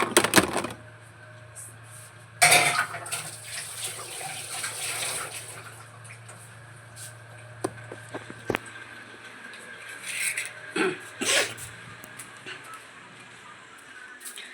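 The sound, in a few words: washing dishes under running water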